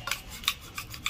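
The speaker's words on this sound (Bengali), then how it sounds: "মাংস কাটছে দেখো চামচ দিয়ে" A spoon scraping and cutting through meat on a plate during a meal, giving several short, faint rasping scrapes spaced unevenly, with no talk.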